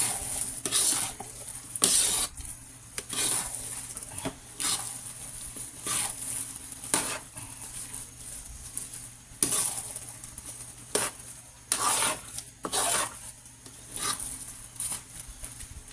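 A spoon stirring thick, sticky Filipino biko rice cake in a pot, making repeated wet scraping and squelching strokes at an irregular rhythm, close and fairly quiet with no talk.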